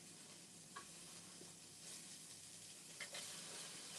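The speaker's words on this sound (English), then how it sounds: "We're sauteing the spring onions." Spring onions sauté in a pan with a faint, steady sizzle and hiss, broken by occasional light stirring clicks.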